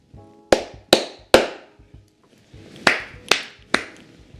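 Six sharp hand claps ring out in two groups of three, each clap crisp and close with a short decay.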